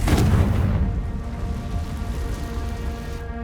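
A Confringo fire spell blast from the game Hogwarts Legacy: a heavy, deep boom that hits at once and then fades into a long rumbling tail.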